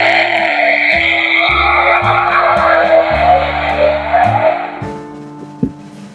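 A Dickie Toys Lightstreak Speedster toy car plays its built-in electronic sound effect: a loud, continuous engine rev with tire screech and a stepping tonal melody for about five seconds, then a brief fade with a click.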